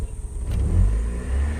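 A Daewoo Nexia 2 engine with a high-idle fault revs up steadily as the gas is pressed, a loud, close, low rumble that swells and holds, with no talk over it.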